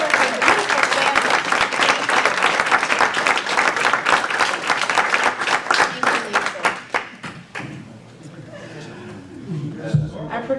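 A crowd applauds Miss Lisa at a mental health awareness panel event in St Augustine, Florida, with steady, dense clapping and a few chuckles that thin out toward the end, while voices carry over it.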